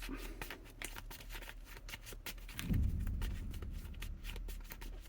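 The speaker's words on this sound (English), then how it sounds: "so I grab 4 event cards, shuffle them up" Event cards for a solo tabletop board game session being shuffled by hand, a soft papery riffle and patter running through the whole stretch with a low thump partway, close and quiet with no talk.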